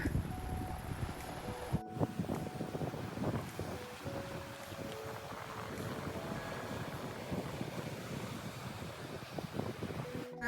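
Wind blowing across the open coast at Badger Head beach in Tasmania, a steady broadband rush and microphone buffeting that fills the whole stretch at a fairly even level, with no talk.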